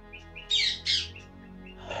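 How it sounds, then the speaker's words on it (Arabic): Birds, including nightingales and sparrows, sing nearby with a few bright, squawky calls and soft chirps over a low steady hum. "لتستمع إلى صوت الطيور، إلى صوت البلابل والعصافير، إلى أصوات الطيور المغردة"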